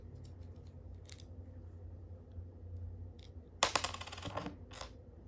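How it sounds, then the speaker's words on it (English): Small metallic clicks from the spacer of a Shimano Curado K baitcasting reel snapping into alignment, a short cluster of sharp, close ticks over a faint steady background hum. "You gotta align it so that it makes that clicking noise."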